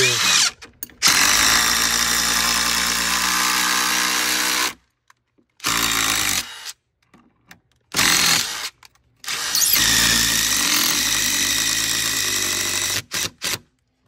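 A DeWalt impact driver whirs loudly in long continuous bursts, driving anchors into masonry for hurricane protection, stopping and restarting several times with short silent gaps, close by and without speech.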